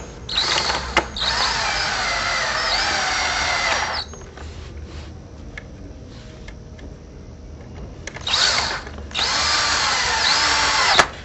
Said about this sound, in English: Simply place your T-post in the frame and insert the screw into the pre-drilled holes and install the T-post.